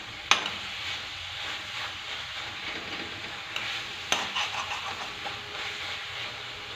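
Potato, pea and fenugreek curry stirred in a pan, a low sizzle and scraping hiss with a few sharp spoon knocks against the metal, close and fairly quiet.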